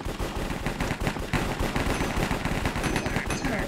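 Rapid bursts of gunfire from a blocky Minecraft-style cops-and-crims shooter match, dense and continuous throughout, with sharp repeated shots crowding one another at close range.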